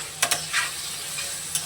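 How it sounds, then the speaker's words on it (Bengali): Potatoes seasoned with salt and turmeric fry in a pan, a steady sizzle broken by a few quick scraping stirs near the start and one more toward the end, with no talking. "আলুটাকে এবারে ভেজে নেব"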